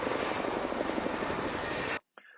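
A helicopter drones loudly and steadily, its rotor chop pulsing in a dense, continuous roar that cuts off sharply near the end.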